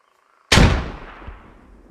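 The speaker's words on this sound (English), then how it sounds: "Throw nades over, throw nades inside. Nade's going over. Frag out." A frag grenade in a video game detonates after a moment of near silence: one sudden loud close blast that decays into a rumbling tail with a faint secondary thump.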